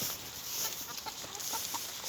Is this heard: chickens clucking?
yes